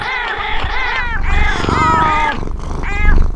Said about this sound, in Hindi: जिंदगी में पहली बार कैट फाइट देखा वो भी आंखों के सामने